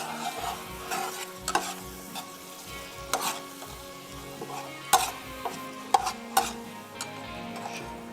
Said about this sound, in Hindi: अब इसको थोड़ा सा फ्लेम को हाई करके भूनेंगे